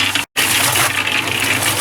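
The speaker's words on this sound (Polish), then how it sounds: "Trochę wody dolałem, ale chyba trzeba będzie jeszcze wiaderko dolać" Water poured from a bucket into a wet mixture of leaves for making fuel briquettes, a loud, close, steady gush broken by one brief pause.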